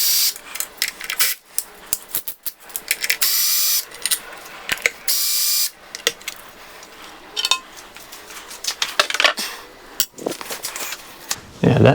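A hand ratchet clicks in short bursts as bolts come off the timing cover of a Nissan VQ35DE V6, close and loud, with brief metallic clinks of tools between strokes and a voice talking at times.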